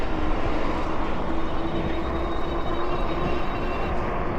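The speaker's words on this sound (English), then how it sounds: "So here comes this huge fire truck." A huge fire truck drives past close by, its engine and tyres producing a loud, steady, heavy rumble with a faint whine that fills the whole moment without pause.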